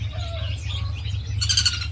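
Several birds in an aviary call and chirp, with soft whistles early on and a burst of bright, rapid tweeting toward the end over a low background hum.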